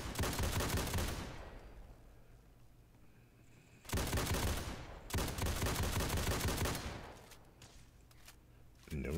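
Fully automatic AA-12 shotgun fire in the video game Fallout 4, with a drum magazine fitted: dense, loud rapid bursts of booming blasts that come in several volleys with brief pauses between them, up close.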